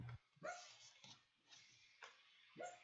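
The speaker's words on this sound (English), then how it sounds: "Dog's going crazy." A sleeping dog makes soft muffled woofs and whimpers while dreaming, four or five short faint yips spaced about half a second apart, close by in a quiet room.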